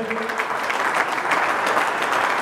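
A congregation at a Congolese memorial service applauding together, dense sustained clapping from a large crowd, loud and continuous throughout.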